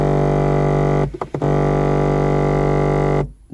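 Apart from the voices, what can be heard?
Audi sunroof wind deflector motor noise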